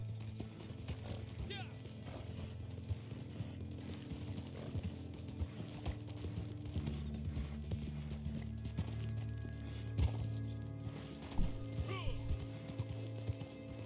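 Horse hooves clip-clopping at a gallop in Red Dead Redemption 2 Online, a steady rhythmic beat of hoofbeats under someone talking, with an occasional whinny and rattling tack.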